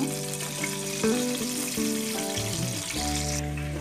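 Cinnamon pieces and a few cardamom pods fry in hot oil with a continuous bubbling sizzle, accompanied by steady tonal background music.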